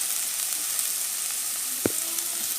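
Five finely chopped onions sizzle steadily in hot oil for a Tamil soya egg roll, a dense even hiss broken by one brief sharp knock near the end, with no voices.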